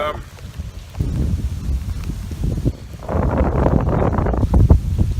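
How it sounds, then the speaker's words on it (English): Wind buffets the microphone in rumbling gusts during Hurricane Irma, easing briefly, then surging louder and more sustained toward the end. "the wind's not too terrible."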